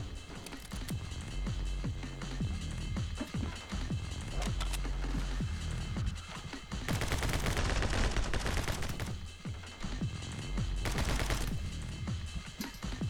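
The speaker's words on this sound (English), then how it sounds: "Oh, we got explosions and an Uzi." Uzi gunfire and explosions in the game My Friend Pedro, rapid bursts of automatic fire crackling over a dense, constant soundtrack, with louder blasts swelling in twice.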